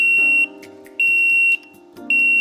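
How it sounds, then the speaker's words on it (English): An underwater camera housing's leak alarm beeps in long, loud, piercing tones, three of them separated by short pauses, with a low hum under each. "And the leak alarm system, sets off when your housing starts to leak."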